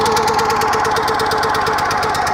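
A log splitter's gasoline engine runs close and loud with a fast, even chugging rhythm that holds steady throughout, with no voices.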